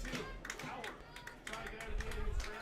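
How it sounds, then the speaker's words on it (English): Baseball fans clap in the stands at an IBL Finals game between the Baycats and the Jackfish, scattered rhythmic claps heard from a distance under continuous radio play-by-play talk. "Fans starting to clap."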